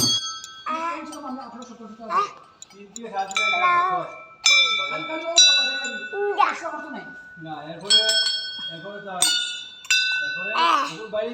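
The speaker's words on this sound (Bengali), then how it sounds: "অনেকটা জোর লাগে এই ঘন্টাটা বাজানোর জন্য।" A heavy temple bell rung by hand during a puja, needing considerable force, giving repeated bright, ringing strikes with lingering metallic tones, mixed with nearby voices talking.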